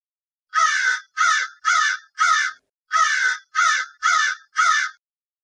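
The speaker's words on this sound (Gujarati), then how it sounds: "કાગડો બોલે" A crow caws eight times in two quick groups of four, each call harsh and evenly spaced, loud and close against silence.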